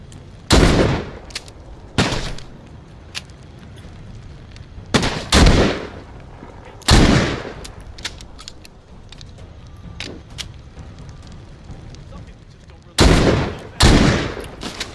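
Gunfire in The Walking Dead: Saints and Sinners, loud separate shots and short bursts spaced across the stretch, some doubled in quick succession, sharp and close against a low background rumble.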